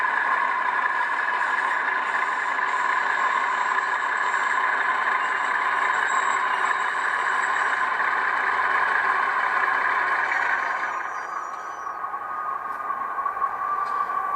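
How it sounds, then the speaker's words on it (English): Simulated flange squeal from an ESU LokSound decoder in a Rapido HO scale C30-7 locomotive: a steady, loud, high-pitched tonal screech that holds continuously for about eleven seconds, then eases slightly. "so there's flange squeal"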